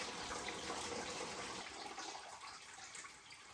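Coolant pours out of a disconnected hose on a seized BMW N20 engine in a 328i, a continuous, fairly faint rushing splash that eases slightly toward the end.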